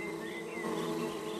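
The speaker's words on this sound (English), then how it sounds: "Leo, look, it's wasps." Cartoon wasps buzz in a steady, even drone that hangs at a soft, constant level throughout, with no voices over it.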